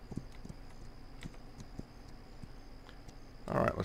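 Soft, regular horse hoof clops in the video game This Land Is My Land plod along at a slow walking pace, fairly faint and close, before a brief burst of louder noise at the end.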